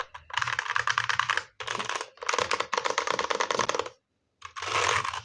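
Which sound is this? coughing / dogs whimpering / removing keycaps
removing keycaps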